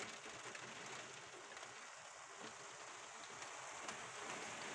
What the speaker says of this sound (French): C'est que de la pluie.